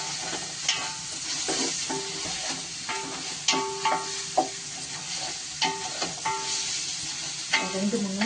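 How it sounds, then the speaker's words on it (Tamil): Onion and masala frying in a pan for peas pulao, a loud close sizzle broken by repeated sharp clinks and scrapes of a spoon stirring. "ஒரு 2-3 நிமிஷம் அப்படியே வதக்கணும்"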